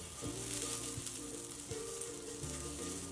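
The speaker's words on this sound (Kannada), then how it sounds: "ಈಗ ದೋಸೆ ಹಾಕ್ಕೊಳ್ಳೋಣ. ಪ್ಯಾನಿಗೆ ಸ್ವಲ್ಪ ಎಣ್ಣೆ ಹಾಕೊಳ್ಳೋಣ." Beetroot dosa batter sizzles in an oiled pan, a steady close frying hiss that runs for a few seconds, with a few low clinks or scrapes beneath it and no voices.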